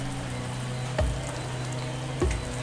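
Rain falls steadily at a sheltered cafe in Phuket, a soft hiss of drops with a low background hum and two heavier thuds of water striking close by.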